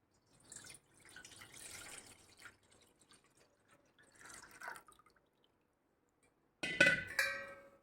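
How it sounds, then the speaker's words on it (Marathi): Milk is poured into a bowl holding curd, giving quiet trickling and splashing in short bursts and then a louder, brighter pour near the end, close to the listener, with no voices. "आता हे बाकीचं आपण दूध सगळं याच्यात ओतूया"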